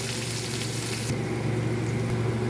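Dry red chilli, bay leaf, whole cumin and chopped onion hit hot oil in a kadai, giving a loud, dense sizzle that flares up partway through and stays steady and close, with no talking.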